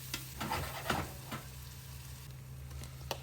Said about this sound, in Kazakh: Қызып тұрған сұйық майды пиязды қуырып аламыз.